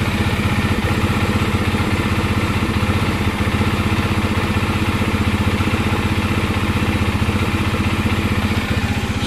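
A Bajaj Dominar 400 motorcycle idles after sitting unused for a month. Its single-cylinder engine thrums loud and close in a steady, even rhythm with no change in speed, and no one speaks.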